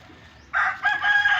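A prized rooster from a chicken farm crows once, loud and close, a short rising call that begins abruptly.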